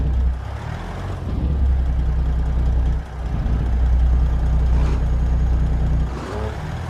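A Caterpillar diesel truck engine in American Truck Simulator drones steadily and loudly at low pitch, with a brief dip near the three-second mark before the rumble resumes for the rest of the stretch.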